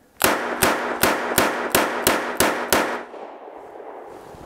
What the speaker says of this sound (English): All right, 8 shots, double action, center mass.